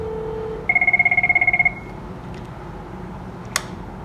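A Cisco IP phone rings with an incoming call: a quick run of about a dozen bright electronic trill pulses, preceded by a steady tone and followed by quiet and a single sharp click.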